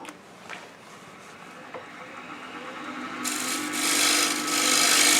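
Wood lathe turning a door stopper, the tool scraping and rasping against spinning wood, growing louder and brighter as the cut deepens, close up without speech.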